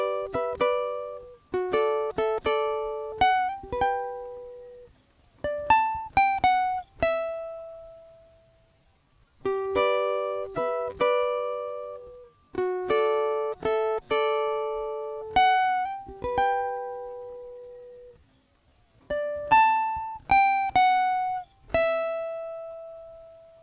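Ukulele riff on a lesson tune, played repeatedly in short phrases of plucked notes with slides, clear and close with pauses between phrases.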